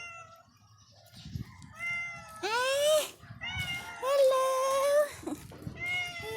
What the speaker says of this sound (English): And there is a cat here.